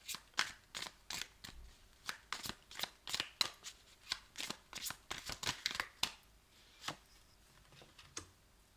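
Tarot cards being shuffled by hand, a close, quiet series of crisp riffling and slapping bursts in an irregular rhythm that slows near the end.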